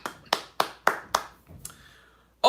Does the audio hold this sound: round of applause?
yes